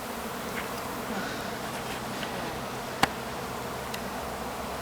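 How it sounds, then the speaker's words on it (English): A swarm of honeybees at a perennial nursery in West Seattle fills the air with a dense, steady outdoor buzz, unbroken throughout, with a few individual bees passing close and one sharp click partway through. "They're swarming."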